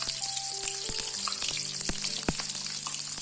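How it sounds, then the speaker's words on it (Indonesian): Shallots frying in oil sizzle and crackle steadily throughout, a close, continuous frying hiss with scattered pops and a few faint tones in the background. "kemudian kita menggoreng bawang merah"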